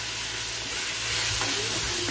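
Tomatoes and salt frying in a pan for kanava (squid) kuzhambu, a dense close sizzle that swells slightly partway through and holds steady over a low hum.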